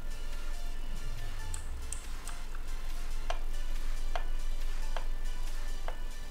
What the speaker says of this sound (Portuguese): Vamos picar esse chocolatezinho aqui.